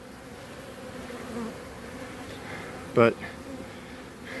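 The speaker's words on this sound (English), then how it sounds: "Here's the bees still coming out of the trap out." Steady buzzing of many honeybees swarming close by around a trap-out box, with a brief louder sound and a short spoken word partway through.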